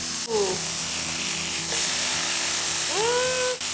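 Smash burger patty frying in a pan, giving a steady loud sizzle throughout with brief higher clattering tones over it.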